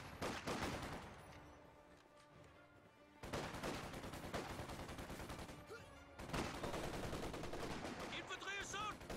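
MG34 machine gun fire from the Company of Heroes 2 strategy game rattles in sustained bursts amid other gunfire, loud battle noise, briefly dipping then resuming with dense, continuous rattling.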